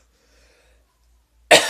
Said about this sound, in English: God, why am I coughing so much right now?